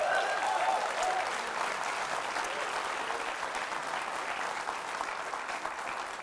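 A live audience at a talk show applauds and cheers steadily throughout, a dense, sustained wash of clapping that slowly tapers off toward the end.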